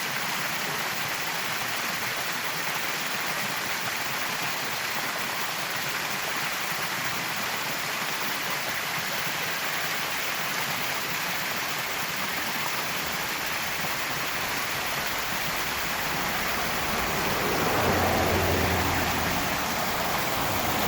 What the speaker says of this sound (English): And right there is your old waterfall.